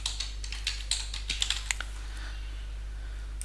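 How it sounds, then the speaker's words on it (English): Quick, light clicking of keys on a computer keyboard, with a short burst of close keystrokes that thins out toward the end over a faint steady hum, and no talking. "So now I'll type here"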